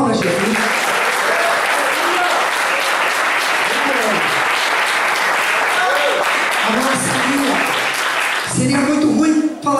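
A church congregation gives sustained, dense applause that fills the space evenly for several seconds, loud and close, then ends with a brief swell and a few scattered voices.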